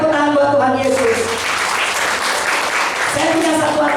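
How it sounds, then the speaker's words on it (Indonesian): A church congregation bursts into applause for Jesus, a dense wash of many hands clapping after a voice fades out, then tapering as speech resumes. "Ayo beri tepuk tangan buat Tuhan Yesus."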